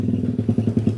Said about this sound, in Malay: lalu dengan motosikal yang kuat. Bising sikit.